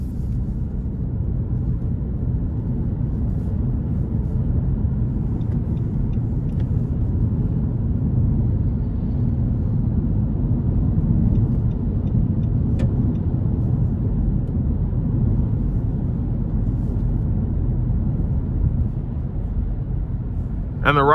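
A 2021 Nissan Rogue Sport SV in eco mode around town, heard from inside the cabin as a steady low engine and road rumble with no distinct events, continuous throughout.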